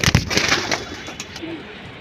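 Pigeons of fancy breeds such as Hammer, Silver Pankhi and Military cooing nearby, a few soft throaty coos in quick succession, close and without speech.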